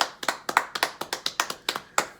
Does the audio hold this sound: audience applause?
yes